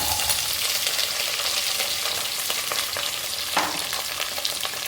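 Curry leaves and shallots hit hot oil for a homestyle chicken curry, giving a steady close sizzle with a few light stirring scrapes and no voices.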